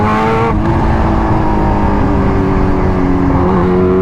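A loud, steady supercharged Kawasaki Ninja H2R engine drones close by with sustained harmonic roar, rising slightly in pitch near the end.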